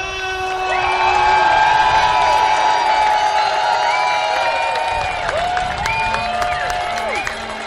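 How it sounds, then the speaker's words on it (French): A large outdoor protest crowd in Montreal cheers, whoops and applauds loudly and steadily, with shouting voices rising and falling throughout. "j'invite à applaudir chaleureusement Daniel Bulard!"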